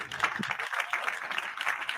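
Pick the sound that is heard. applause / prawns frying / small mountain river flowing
applause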